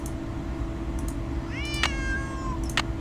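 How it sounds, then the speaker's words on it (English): A cat in a Nancy Drew game meows twice in quick succession, then gives a short third cry, close and clear over a low steady hum. "Shut up, cat."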